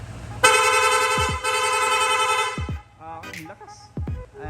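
A Honda ADV160 scooter's rapid horn blares in a loud, steady tone for about two seconds, followed by short staccato honks and brief clicks, with brief voices nearby.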